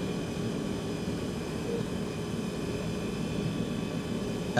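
A Hawker Siddeley 748 twin-turboprop airliner in Ryanair livery runs in a flight simulator game, its engine holding a steady, even drone with a broadband hiss and faint tonal whine, unbroken and alone.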